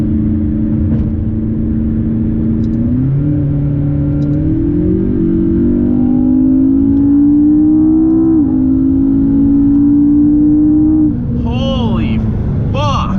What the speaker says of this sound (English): Doing double what the speed limit recommends, and this car has no problem doing it.